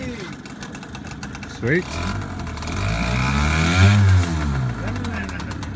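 A motorcycle-like engine on a riverside outing cranks, catches and revs with rising and falling throttle, loud and close, then settles toward idle while people talk over it.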